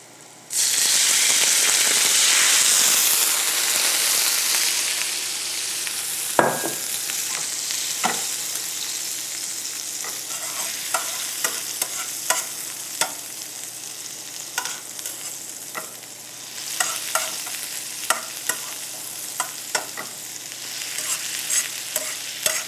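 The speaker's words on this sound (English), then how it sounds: "what I am doing right now is to add some Chardonnay to deglaze." Mushrooms sizzling in a hot pan, deglazed with Chardonnay: a loud burst of hissing when the wine goes in, then steady frying sizzle with repeated scraping and clicking from stirring, close and with no talk.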